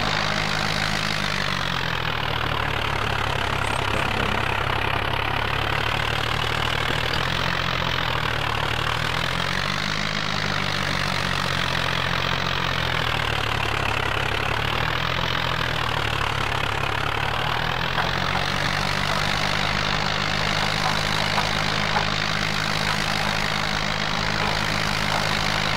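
Tractor engine droning steadily while ploughing in Farming Simulator 2011, a loud continuous hum with slow rising and falling pitch throughout, no talk.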